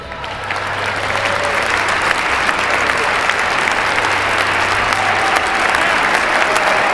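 A large assembly of officials and ministers applauds a US presidential address: a loud, thick, continuous roar of clapping that swells early and holds steady, with a faint low hum running beneath it.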